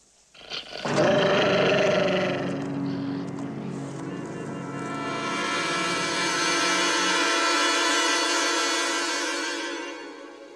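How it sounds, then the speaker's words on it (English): Dogs growl and roar menacingly in the 1978 animated film Watership Down, a loud, harsh, sustained snarling that swells and rolls on for several seconds over a dramatic film soundtrack. "Dogs aren't dangerous!"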